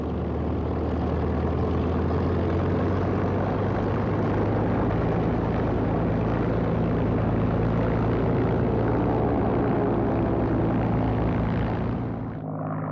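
A WWII Corsair fighter's propeller engine drones loud and steady, a continuous low roar that holds constant before dropping away at the very end.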